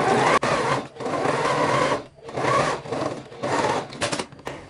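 A sewing machine runs in steady bursts, sewing a seam 3 cm from the edge of a lined two-fabric lunch bag with backstitching at each end. There are several close, loud stitching runs separated by short pauses.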